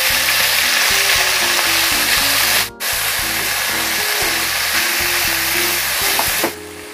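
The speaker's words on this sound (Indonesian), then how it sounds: "saya masukkan daging sapinya yang sudah dicincang agak halus. Saya aduk-aduk, diratakan ya teman semua." Finely minced beef sizzles loudly in a pan with garlic, a dense, constant frying hiss broken by repeated scraping and clacking as a utensil stirs and spreads the meat.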